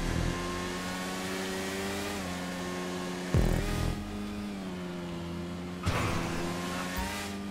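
A Nagasaki Shotaro motorbike engine in GTA 5 Online drones steadily at high revs, with a couple of sharp gear-shift or rev changes breaking the sustained whine; no talking.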